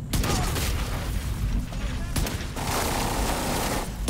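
Regulus exotic pistol fired in The Division 2, heard as loud booming shots with heavy echoing tails and gunfire clatter filling the stretch, a brief quieter gap between them.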